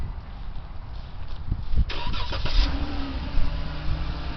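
A 2014 Dodge Durango Citadel Edition starts by remote, the starter cranking briefly before the engine catches and settles into a steady, fairly close idle with no talking.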